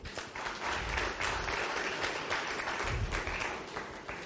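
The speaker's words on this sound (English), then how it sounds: "Please let us appreciate one another by clapping for one another." An audience at a telecoms consumer parliament applauding steadily, dense clapping from many hands that holds at an even level throughout, with no voices standing out.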